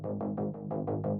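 Synth bass patch built in Serum playing a pulsing line of seven evenly spaced throbbing notes, warm and buzzy with a steady repeating rhythm, heard alone at moderate level.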